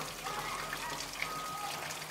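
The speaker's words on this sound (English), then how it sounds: "managed to get it where the water's flowing freely out of all of the vents" Water flows freely out of the cowl vents of a Ford bus van, a faint steady trickle and splash with soft scattered drips and no voices.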